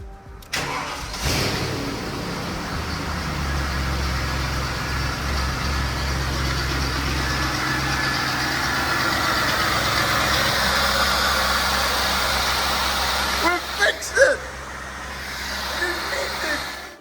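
A BMW 740i police car engine on its first start after repair: a brief crank, then it fires and settles into a steady, close, even idle that runs throughout.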